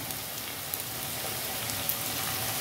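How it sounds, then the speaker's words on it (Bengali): Coated potato and egg pieces frying in hot oil give a faint, continuous crackling sizzle with a few small pops, steady throughout and without speech. "আমি একটা একটা করে এইভাবে দিয়ে ভেজে নেব।"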